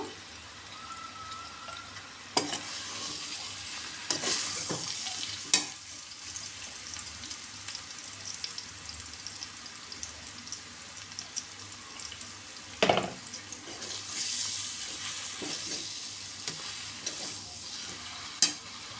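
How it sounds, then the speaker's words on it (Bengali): A spoon stirring half-boiled mango with turmeric and Kashmiri red chilli powder in a pan, with a soft steady sizzle, occasional scraping knocks and a few clinks, heard alone and fairly faint. "হলুদ লঙ্কা দিয়ে ভালো করে মিশিয়ে নেব।"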